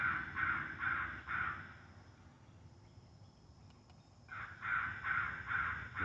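Crow calls or caws, an air-rifle crow hunter's call played from a porch in Indiana, in two bursts of loud, repeated harsh notes separated by a quieter gap, with faint insect chirring beneath.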